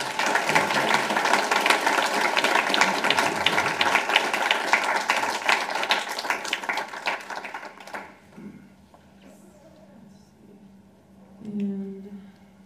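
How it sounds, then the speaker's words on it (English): Sustained audience applause after a talk on artificial intelligence, dense and steady for about eight seconds, then cutting out into a quiet room with brief fumbling noises and a faint murmur. "can we please get a big round of applause for our two speakers?"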